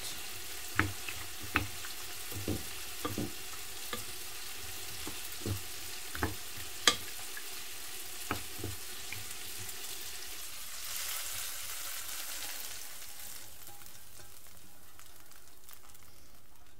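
Cooked lardons sizzle in a pan with a steady low frying hiss, broken by a series of sharp clacks and scrapes from stirring through the first half, then a softer, continuous sizzle.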